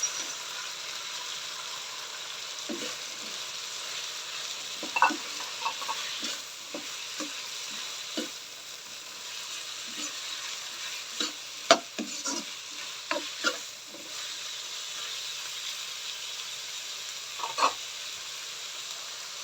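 Cabbage and carrots are stir fried in a pan, giving a continuous sizzle broken by frequent scraping, tapping stir strokes of the spatula that come in irregular clusters, close up with no talking.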